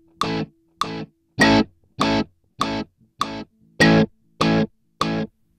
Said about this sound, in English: the delay is repeating on every single beat.